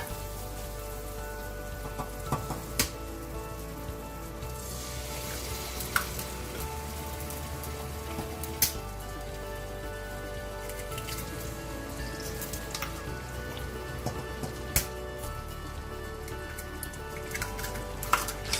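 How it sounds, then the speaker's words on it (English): Eggs fry in a pan on a stove over medium-low heat. A soft, steady crackle of popping oil spatters runs throughout at low volume, with occasional sharper pops. "We're going to start cooking our eggs first."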